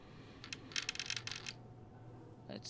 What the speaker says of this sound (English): apparently I can't stop playing dice in this game